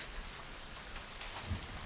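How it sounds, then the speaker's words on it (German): Rainfall in the survival video game Sons of the Forest, a soft, steady patter of drops on surfaces, quiet and continuous with no voices. "Es regnet aus dem Himmel heraus."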